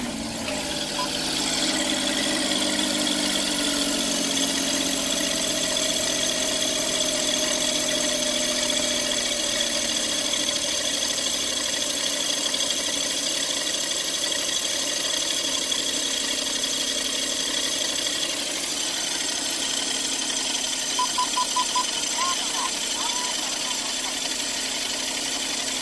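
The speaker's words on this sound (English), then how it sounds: "Let's start her up and see how it sounds." Van engine idling with its AC belt removed: a steady, close mechanical drone with a mid-pitched whine holds for the whole stretch, with faint background noises over it.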